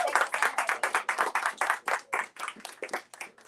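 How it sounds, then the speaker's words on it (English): Audience at a book talk on Garvey claps in distinct bursts, close and moderately loud, the applause irregular and tapering toward the end. "give him another round of applause"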